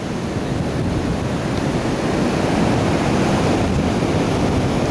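High-tide waves breaking on a beach, a continuous loud wash of surf with steady roar and some wind buffeting the microphone, no voices.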